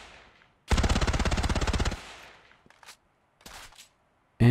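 A Beretta ARX160 rifle in the game Ravenfield fires one loud, rapid automatic burst lasting just over a second, followed by a fading tail and a few short, sharp mechanical clicks.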